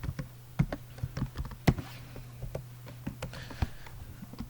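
Keys clatter on a computer keyboard in quick irregular bursts of close, crisp taps with short pauses, over a low steady electrical hum.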